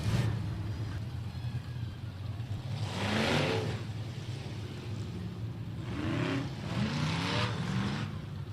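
Eco Limited Modified race cars roar off together at the start of an eight-lap heat race at Big O Speedway, a steady loud engine drone with two rising acceleration surges as cars pass near.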